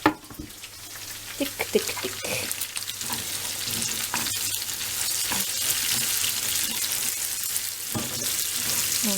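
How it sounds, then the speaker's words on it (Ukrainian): Steady bubbling and sizzling of a pot of borscht boiling on the stove, with a few clinks and stirring knocks along the way. "бачите, кипить борщик."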